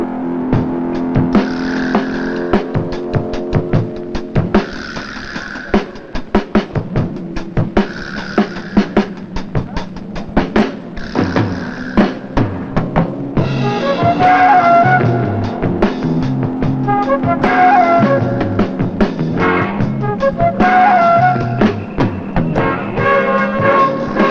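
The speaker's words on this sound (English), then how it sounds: "The pace lap brought the 27 drivers and cars into position for the green flag." Can-Am race cars, 27 of them, rumble through a pace lap at Riverside International Raceway in 1971, engines droning and revving steadily with pulsing bursts as cars pass, loud and continuous with no talk.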